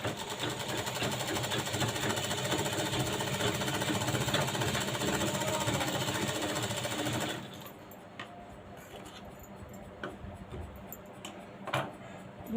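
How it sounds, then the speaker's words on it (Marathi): An electric sewing machine stitches a lined blouse with a fast, steady needle rattle for several seconds, then stops, leaving faint handling taps and fabric rustles. "इकडच्याही बाजूला आपल्याला शिलाई करून घ्यायची आहे"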